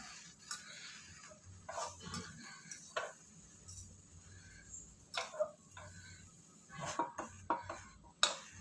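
Quiet scraping and clinking of a spoon against a metal pot as cooked millet tomato puliyodharai rice is stirred, in irregular taps and scrapes with no talking.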